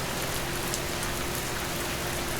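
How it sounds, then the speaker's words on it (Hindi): Heavy stormy rain pours down steadily and loudly, a dense unbroken hiss of falling water with no voices or other sounds. "तूफानी बरसात रुकने का नाम नहीं ले रही थी"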